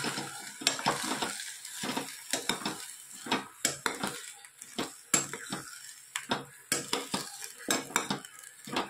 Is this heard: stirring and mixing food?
yes